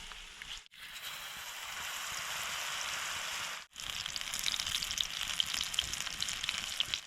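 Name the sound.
pakoras frying in hot oil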